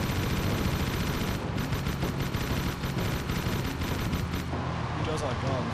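Gunfire in the video game Jak 3 comes as dense, rapid bursts of shots, loud and continuous, with a brief lull near the end.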